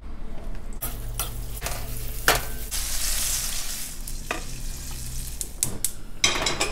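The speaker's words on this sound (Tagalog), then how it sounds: "O prito na natin." Pork sizzles steadily in hot oil, broken by utensil clatters and stirring scrapes against the pan.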